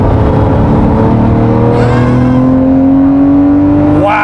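A Lamborghini Murcielago LP640 accelerates hard on an open highway, its engine roaring loud and close as the pitch climbs steadily through the gear, then a quick shift near the end.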